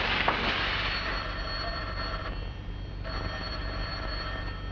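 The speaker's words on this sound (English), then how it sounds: "Answer that phone." A telephone bell rings in a 1940s film scene, a steady ringing tone sustained across the whole stretch under a rumbling background, fairly loud and close, with no voices over it.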